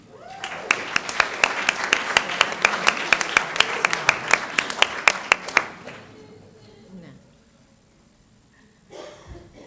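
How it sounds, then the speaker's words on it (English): Audience at a school board meeting applauds teachers, with sharp, evenly spaced claps ringing out clearly for about six seconds. The applause then stops abruptly, leaving a quiet room and a faint rustle at the end. "One more round of applause for your 45 state-recognized high-impact teachers."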